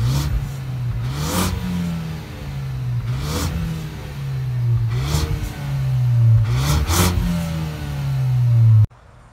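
A Ford Focus ST's turbocharged 16-valve inline-four is revved repeatedly, four or five loud, close blips rising and falling over a steady idle, with a sharp cutoff at the end.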